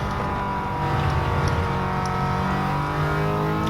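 A 2015 Toyota GT86 with a manual transmission and tuned suspension is heard driving hard through S-bends, its engine note a steady, loud drone with rising and falling harmonics throughout, no talk over it.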